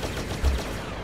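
A DH-17 blaster fires in Star Wars Battlefront, a rapid burst of shots in a dense, noisy one-second stretch.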